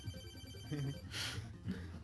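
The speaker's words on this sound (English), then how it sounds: "Pick up the damn phone!" A telephone rings in a Kirby's Adventure game session, an electronic ringtone sounding under steady background noise.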